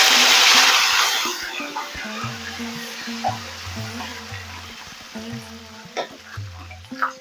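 Cumin seeds, curry leaves and dried red chillies crackle and sizzle as they hit hot oil for a tempering in a coconut and raw mango chutney, with a loud initial burst of spitting that settles into steady frying and stirring.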